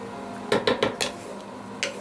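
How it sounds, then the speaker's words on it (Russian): A metal lid goes onto a cooking pot of buckwheat with chicken in cream, a few quick clanks and rattles close up, then a last light clink after a pause. "И закрываю крышкой."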